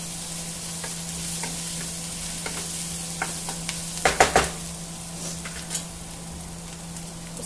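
Milk and cream curry being stirred and fried in a pan, with a steady low sizzle and a few scraping stirs clustered in the middle, close and alone without talk.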